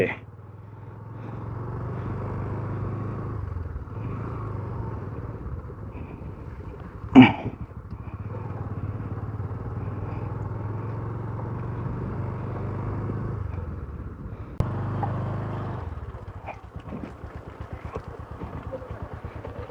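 A motorcycle rides along with its engine droning steadily and low the whole way through. A single sharp knock sounds midway, and the drone dips briefly near the end.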